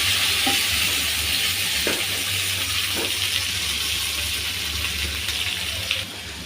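Pumpkin and flat beans sizzle in hot mustard oil in a pan, giving a constant, fairly loud frying hiss with faint stirring clicks that eases slightly toward the end, with no voices.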